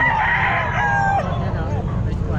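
A sweater-breed gamecock stag at a Calumpit pet market crows once, a loud close cock-a-doodle-doo with a rising and falling call, while people talk nearby in the background.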